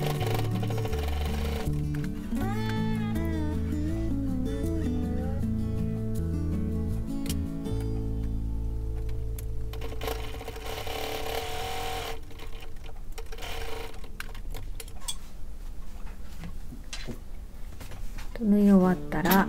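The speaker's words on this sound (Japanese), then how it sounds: "最初と最後返し縫いをします。" A sewing machine stitches a seam on an unlined drawstring bag, backstitching at the start and end, its steady mechanical whir running continuously with brief pauses and changes in speed, loud and close, while music plays underneath.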